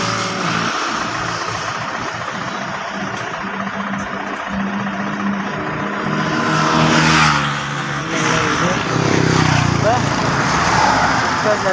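A vehicle runs along a road with a steady engine drone and road rumble, swelling slightly midway, while someone talks over it throughout.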